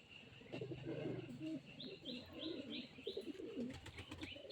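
Pigeons coo repeatedly in a fancy pigeon loft, with soft, rounded calls overlapping in a rhythmic burble and some faint higher chirps, at a low level and close by, with no speech.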